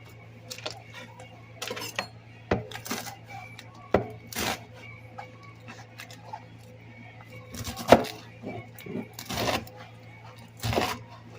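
Knife slicing rolled collard greens on a cutting board, a run of irregular crisp chops and taps spaced over several seconds, close up above a steady low hum.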